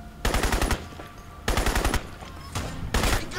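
Rapid automatic gunfire in the PC game Crysis comes in three loud bursts, each roughly half a second of fast repeated shots, separated by brief quieter gaps.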